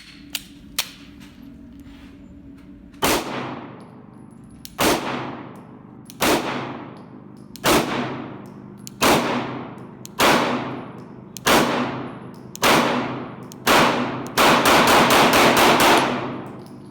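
A Glock 19X pistol firing at a shooting range: about nine sharp, close shots at a slow, steady pace, each ringing briefly, then a quick string of rapid shots packed close together at the end.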